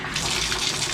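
Water runs from a tap fed by an off-grid well pump just after its filter was replaced. It is a close, continuous hissing splash that stays even throughout the short moment.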